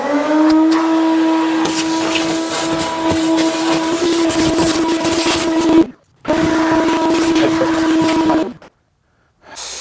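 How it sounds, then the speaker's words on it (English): A vacuum cleaner runs loud and close while cleaning leaves and loose dirt from inside a CFMoto Z950 Sport side-by-side UTV, its steady drone cut off briefly near the end before resuming, then stopping. "I'm gonna go through and vacuum out the inside to get all the leaves and like loose dirt and all that kind of stuff out of there"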